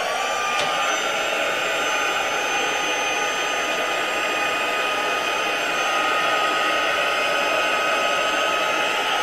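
A heat gun blows hot air steadily while embossing a handmade card, a loud constant whooshing roar with a high whine that holds throughout, alone without talk.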